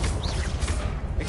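A Confringo fire spell blasts in the Hogwarts Legacy video game, a dense, sustained burst of rumbling explosive noise with a brief whooshing streak near the start, loud and continuous for over a second.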